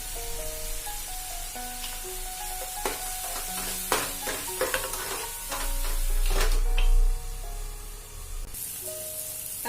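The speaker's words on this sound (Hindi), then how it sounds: "टोमेटो में थोड़ी सी नमक डाल के इसे हल्के से फ्राई करूंगी" Chopped tomato with a little salt frying over browned onions in an Indian home kitchen, sizzling steadily while a spatula stirs and scrapes the pan in repeated clattering strokes, close and fairly loud with no talk.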